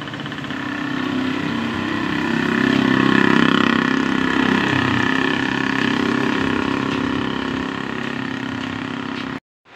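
A motorboat engine drones steadily in the rain, swelling louder midway and then easing, a continuous rumble that cuts off abruptly at the end.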